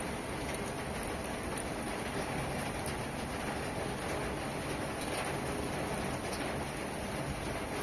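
Steady rain falling, a dense even patter with soft drips throughout, no voices.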